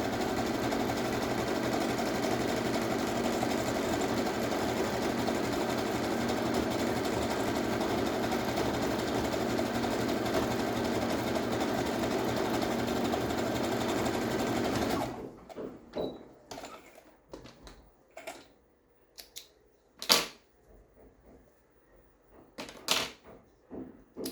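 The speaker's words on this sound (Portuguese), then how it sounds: "Lembrando de usar sempre o ponto elástico da tua máquina" A sewing machine runs an elastic stitch on lingerie fabric in a long, steady mechanical whirr, then gives way to scattered clicks and knocks of fabric and machine handling.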